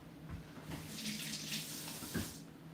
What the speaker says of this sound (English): I'm gonna go rinse my fingers off.